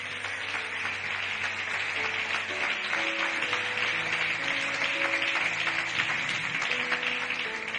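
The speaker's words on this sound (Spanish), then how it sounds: "darle un aplauso fuerte a Dios" A church congregation claps loudly and steadily for several seconds, a dense wash of applause from a large crowd with soft music tones sustained underneath.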